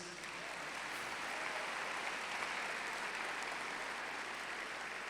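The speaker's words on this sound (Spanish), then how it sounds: "¿Por qué no se dan un aplauso a ustedes?" A church congregation applauding at a worship service, steady sustained clapping from a full room that holds at an even level for several seconds with no talk over it.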